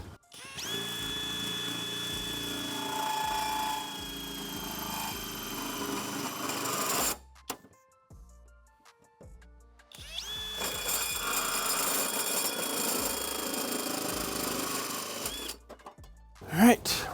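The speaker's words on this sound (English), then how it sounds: "have your drill in a really high setting and don't push hard" A high-speed drill whines steadily as it bores through plastic for a 4Runner snorkel, with a pause before a second long run and a brief burst at the end.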